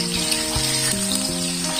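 Chopped onion hits hot oil in a pan, frying alongside garlic for nasi kebuli, with a dense, steady sizzle close by throughout.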